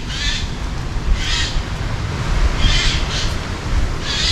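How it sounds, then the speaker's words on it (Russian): A bird on the central beach promenade at Lazarevskoye, Sochi, gives repeated harsh, raspy screeches in short bursts, loud and close, over steady outdoor wind and seaside background noise. "Какой-то попугай кричит тут."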